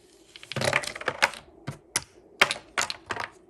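Catalin checkers pieces clack against one another and the board in a quick, irregular series of sharp, close, fairly soft clicks, with no talking.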